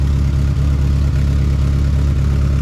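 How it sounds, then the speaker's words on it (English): A Ford Ranger engine idles with an exhaust leak, a steady, loud, close rumble with an airy, hissing whistle rather than a clean exhaust note, running without a break and with no voices. "It's more like a air whistling noise than actual exhaust note"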